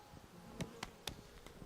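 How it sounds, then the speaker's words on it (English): Honeybees buzz in a steady, low hum during a hive inspection, with a few louder single bees passing close by in short bursts. "Those bees seem to wait for their turn."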